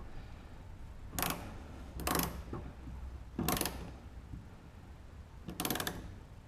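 A hand ratchet clicks in four short bursts while tightening the mud flap mounting bolts on a Chevy Colorado ZR2, close by, with quiet pauses between strokes.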